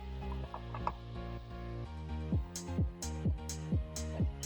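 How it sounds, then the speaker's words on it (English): Small screw being threaded by hand into a Jeep Wrangler headlight mount, giving quick ratcheting clicks and ticks that speed into a steady, close rhythm. "take one of your screws and go ahead and thread it in"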